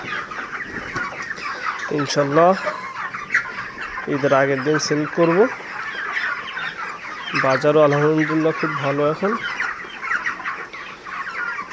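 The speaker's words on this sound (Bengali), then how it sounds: "এই যে মুরগি সব রেডি হয়ে গেছে" Chickens in a flock recovering from Ranikhet virus cluck repeatedly nearby in short rhythmic runs of calls, heard under someone speaking steadily throughout.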